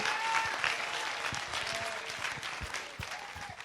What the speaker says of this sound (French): Give the Lord a hand clap offering.